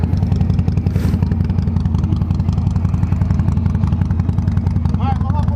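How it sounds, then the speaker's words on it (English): A Harley-Davidson Sportster 1200 Roadster engine idles close by with a loud, steady low-pitched rumble and a pulsing beat, while a person talks over it. "we're gonna ride this 1200 Roadster"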